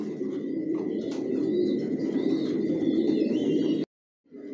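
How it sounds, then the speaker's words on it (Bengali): Racing pigeons in a loft coo in soft, repeated rolling calls close by, with a few higher chirps mixed in, before a brief silence and the cooing resumes. "টপ কোয়ালিটির কবুতর পালি"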